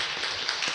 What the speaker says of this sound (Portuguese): E uma salva de palmas, gente.